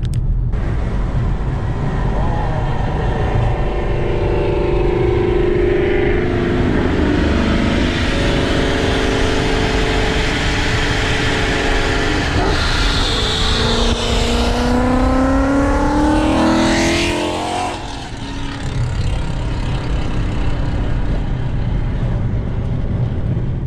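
A loud car engine with a throaty Roush exhaust and eBay headers revs and accelerates nearby, the pitch climbing and sweeping through gears before the roar eases off.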